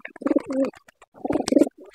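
Pet pigeons coo in two low, throaty rolling bursts, close and fairly loud, with no talking.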